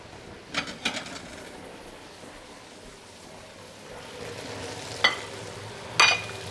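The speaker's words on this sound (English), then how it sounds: "Let it sear again." Shrimp and wide noodles sear in a hot pan for pad see ew, a steady low sizzle with a few sharp clinks and scrapes of tossing, no talking.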